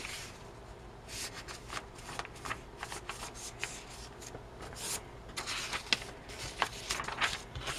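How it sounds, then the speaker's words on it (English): A paper sheet for a journal refill is folded in half, giving close, quiet crinkles, rustles and creasing rubs in irregular bursts. "So what I'm going to do is just fold this in half so I can get my mark."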